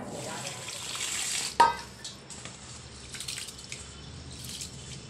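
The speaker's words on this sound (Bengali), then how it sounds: "চালটাকে ধুয়ে নিচ্ছি, এখন ভাত বসাবো।" Rice being washed with water: a faint trickle and splashing in a vessel, with one sharp knock of the pot early on, followed by soft, intermittent sloshing, close and quiet.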